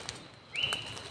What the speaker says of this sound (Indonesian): burung cik duit katanya.